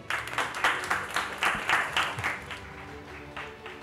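A small group claps in fairly even, rhythmic bursts at a cryptic crossword contest that gradually thin out and fade, with no talking.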